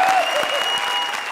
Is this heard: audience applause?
yes